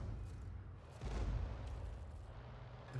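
The Bishop self-propelled artillery gun in World of Tanks fires one shell, a deep, muffled boom about a second in, followed by a low rumbling tail.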